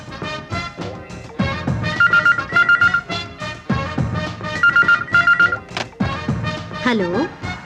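A telephone bell rings in repeated short bursts over background music in a Kannada crime film scene, with a voice calling out over it.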